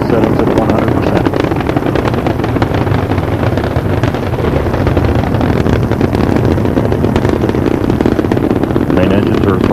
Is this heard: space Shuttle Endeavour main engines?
yes